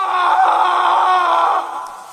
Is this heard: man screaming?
yes